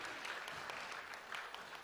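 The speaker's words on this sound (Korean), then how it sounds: "하나님께 감사의 박수를 드리시겠습니다." Brief, faint clapping from a church congregation during a Sunday worship service, a soft scattered patter heard at a distance.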